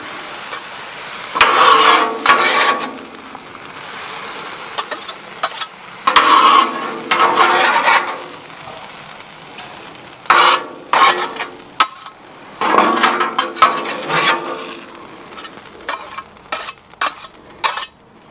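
Pork, mushrooms and onions stir-fried on a Blackstone griddle: loud, close bursts of spatula scraping and clatter come in irregular waves over a softer background sizzle.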